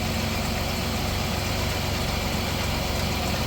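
A car engine idles during an alternator test, making a steady, even mechanical hum with a faint low pulse and no change in revs.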